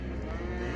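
Young bull calves at a livestock market in Taraz give a sustained, deep moo close by, a single drawn-out call filling the moment.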